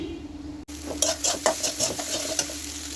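Egg frying in a pan for Thai-style fried rice, a steady close sizzle with a run of scraping, clinking stirs from a spatula against the pan.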